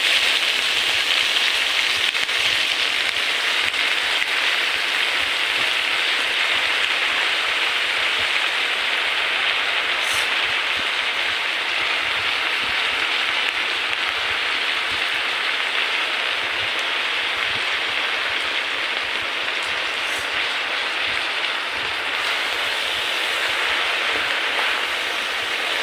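Jute greens (pat shak) fry in hot oil in a pan, giving off a steady, close hiss like rain. The sizzle stays even and unbroken for nearly half a minute, with no voices.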